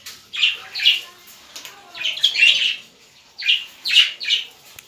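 Budgerigars and other small cage birds kept together in a breeding setup chirp in three clustered bursts of bright, rapid tweets, near and fairly loud, with short quiet gaps between.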